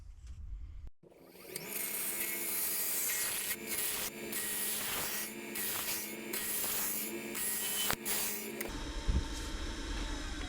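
Mid-size carbide hollowing tool cutting the inside of a wood bowl on a lathe, a continuous close scraping and hissing roar lasting several seconds with small bumps, then easing off near the end.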